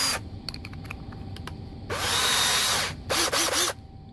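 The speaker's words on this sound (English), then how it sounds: "I'm going to chuck it up in the drill" A few light clicks and taps, then two short bursts of a power drill spinning a small aluminum piece chucked in it, the first about a second long, the second shorter.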